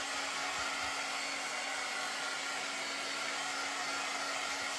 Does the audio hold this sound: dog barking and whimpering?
no